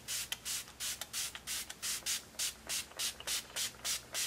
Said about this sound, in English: I love this setting spray.